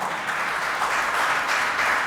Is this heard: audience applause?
yes